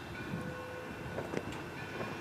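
A train rolls toward the camera on the track at a steam locomotive triple header, giving a low rumble with faint metallic squeals and a few clanks, moderately distant, with no talk.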